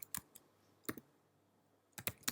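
A computer keyboard gets a few quick, faint clusters of keystrokes, soft clicks separated by short quiet pauses.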